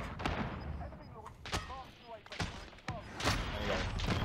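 Sniper shots and other gunfire in a video game shooter, several sharp cracks spaced over a few seconds at mid distance, mixed with game noise and a player talking.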